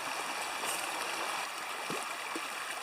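Water trickling and gurgling steadily into a bedrock mortar hollowed in a creekside rock, a soft continuous wash with small splashes and no talk.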